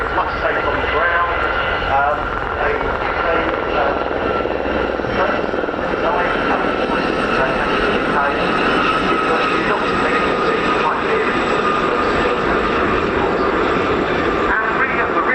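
A Gazelle helicopter of 705 Naval Air Squadron, Fleet Air Arm, flies past in the display at the RAF Cosford air show. A steady rotor and engine roar continues throughout while an announcer talks over the noise.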